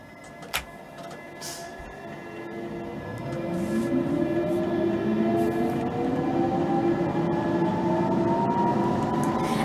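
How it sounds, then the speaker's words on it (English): A Central Line train departing in the BVE train simulator game: a motor whine rises steadily in pitch as the train pulls away, with a sharp click near the start and a low rumble beneath. "This train's ready to depart."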